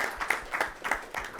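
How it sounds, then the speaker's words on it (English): An audience applauds in a conference room in Mumbai, a burst of scattered claps from a moderate crowd with rhythmic peaks, clear and fairly close, no voices over it. "So let's applaud for all of you in this room."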